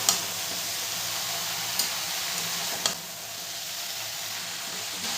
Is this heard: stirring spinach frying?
yes